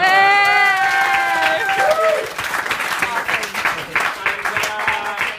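Applause and cheering from a wedding reception audience at a best man's speech, loud and close at first. A few shouts and whoops cut through early on, then dense clapping continues steadily to the end.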